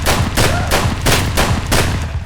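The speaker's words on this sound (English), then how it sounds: "I think we fired 8 rounds" A shotgun in the video game Escape From Tarkov fires about six loud, close blasts in quick, steady succession, each with a short booming tail, and nobody speaks.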